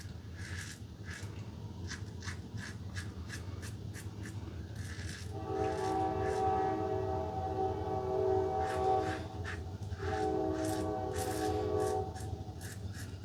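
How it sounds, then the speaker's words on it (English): A passing train sounds its horn in two long blasts, heard at a moderate distance over a low background rumble, with faint light tapping noises nearby. "Another train, yeah."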